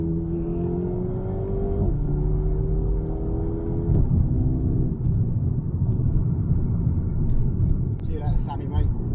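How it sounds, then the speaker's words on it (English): A 2019 Mercedes-AMG A35 hot hatch accelerates hard from inside the cabin, its engine note rising steadily through the gears with brief drops at each shift, a loud close rumble under someone talking. "If I point my car in a direction like I'm gonna do now and just plant my foot, it goes."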